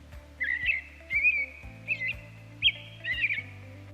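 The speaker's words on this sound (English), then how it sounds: "That was a cute bird, you've got to admit." A small bird chirps and sings in a run of bright, repeated twittering phrases, fairly close and clear, alone over a faint low background hum.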